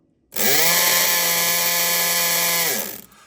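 A Multipick Kronos electric pick gun ground against a bench top gives off a loud, harsh, buzzing whine. It holds steady for about two and a half seconds, then cuts off abruptly.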